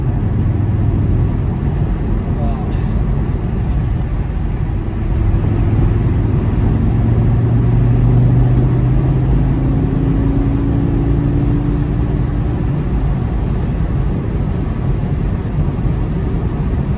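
Audi TTS with about 320 horsepower pulling under acceleration, a loud steady low engine drone with rising tone sweeps as revs climb, heard from inside the car over continuous road rumble.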